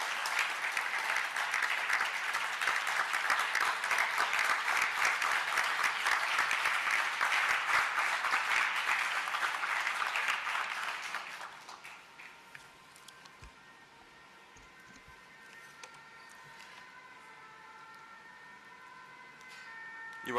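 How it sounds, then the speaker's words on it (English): Audience applause for a speaker at a formal international appeal event, loud sustained clapping for about eleven seconds that then stops abruptly, leaving quiet room tone. "And please applaud him to the lectern"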